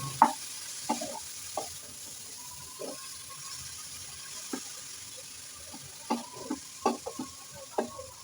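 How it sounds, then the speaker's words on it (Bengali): Grated carrots fry in ghee over a low flame: a faint, quiet sizzle beneath sparse, sharp spoon clicks and scrapes against the pan, spaced irregularly through the stretch. "ঘিয়ের মধ্যে ভেজে নেবো গাজরগুলো।"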